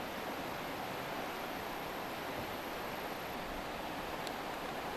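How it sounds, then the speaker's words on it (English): River rapids rush somewhere upstream of a calm stretch of river at a campsite, a steady broadband roar that stays even and continuous throughout with no voices. "You can hear the rapids upstream."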